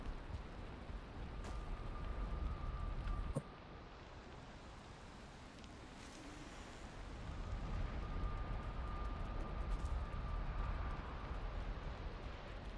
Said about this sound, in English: It just started raining here.